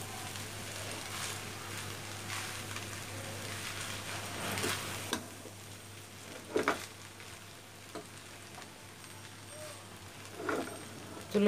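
Leftover cooked rice fries and is stirred in a pan, a soft steady sizzle with occasional scraping and clanking of the spoon, faint and close, without speech.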